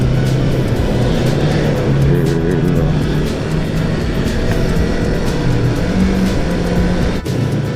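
Steady, dense road traffic with heavy trucks rumbling past on a rural Sumatran road, heard from a touring motorcycle; a continuous loud low drone with engine hum and wind, no pauses.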